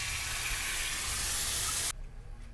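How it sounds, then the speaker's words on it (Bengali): Water is poured into a hot cooking pan while a Bengali shukto simmers, giving a loud, steady rushing hiss that stops abruptly and leaves a quieter bubbling simmer. "পরিমাণ মতো জল দিয়ে দেব"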